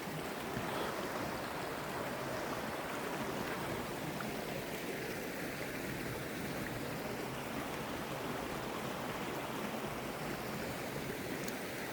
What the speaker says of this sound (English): This creek dumps out into Lake Ontario eventually.